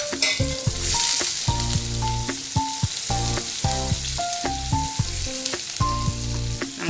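Cumin seeds and sliced onion fry in hot oil in a pan on a low gas flame while making coconut rice, giving a steady loud sizzle with crackling. Music plays over the frying.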